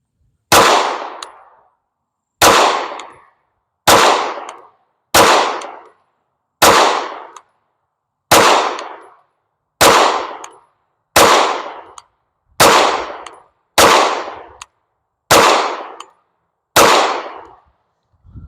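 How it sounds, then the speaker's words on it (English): Twelve sharp, loud pistol shots from a Canik Mete Prime ring out alone at an even pace of roughly one every one and a half seconds, each followed by a short decaying echo. "So we got 12 more rounds left. Let's shoot them off."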